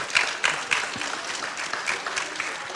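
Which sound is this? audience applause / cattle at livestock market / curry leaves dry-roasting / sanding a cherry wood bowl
audience applause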